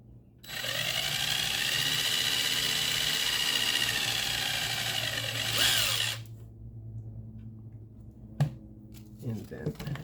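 A very thin drill bit whines steadily through a workpiece for about five seconds, loud and close, then cuts off, followed by a few small clicks and handling noises.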